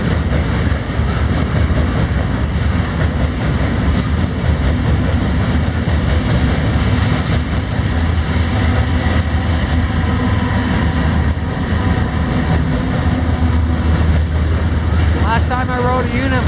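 A freight train bound for a potash terminal in North Vancouver rumbles past continuously and loudly, a heavy, sustained roar of rolling wheels and cars with no break.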